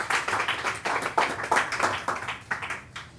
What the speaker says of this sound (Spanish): un aplauso para Wilkins